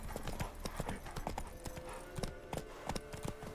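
Geralt's horse gallops in The Witcher 3: Wild Hunt, hooves pounding in a fast, continuous clip-clop rhythm, close and fairly loud.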